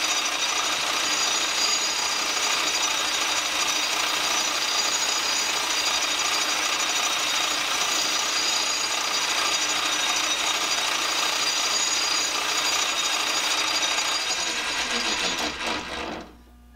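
Steady, loud abrasive rubbing of sandpaper held in a rigid backing against a wooden vise handle, running unbroken for about fifteen seconds before stopping abruptly, with no talk.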